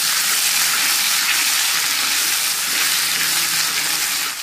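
Jengkol with oyster sauce and sugar stir-frying in a pan for a salted tilapia dish: a steady, close, broadband sizzle that holds evenly throughout with no voices.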